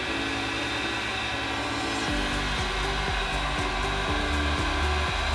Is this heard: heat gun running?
yes